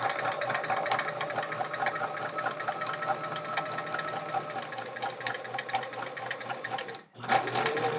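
A sewing machine stitches a chevron quilt top with a fast, steady mechanical chatter close by, pausing briefly near the end before starting up again.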